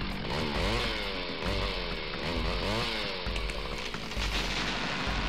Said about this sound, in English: A mechanical saw, like this one, can cut down a tree in just a few seconds.